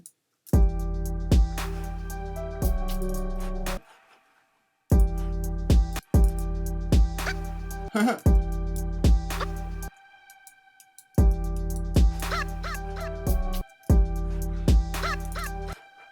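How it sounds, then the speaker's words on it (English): A music sample with a clucking, chicken-like tone plays as a looped beat phrase, loud chopped bursts repeating in regular blocks with brief gaps of silence between them. "It's like a chicken sound, but I like it."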